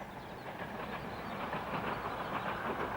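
Train running on the Esk Valley railway line through countryside between Whitby and Middlesbrough, a steady, moderately loud rolling rumble with a faint rhythmic clatter throughout.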